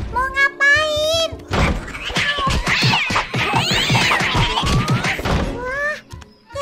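A cartoon cat lets out several bright, high meows at the start and again near the end, with loud thumps, clatter and animated voices crowding the middle.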